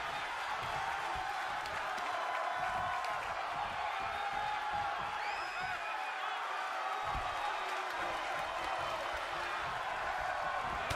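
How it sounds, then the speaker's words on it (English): A wrestling arena crowd at an eight-man tag match stands and cheers in sustained appreciation, a loud, continuous roar with scattered whoops throughout. "this crowd is on their feet in full appreciation"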